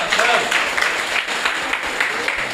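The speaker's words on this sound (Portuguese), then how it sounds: "Uma salva de palmas para ele, por favor." An audience claps for Marcelo, a pre-candidate for city councillor, at a political meeting in Uruçuca, Bahia; steady moderate applause with speech mixed in.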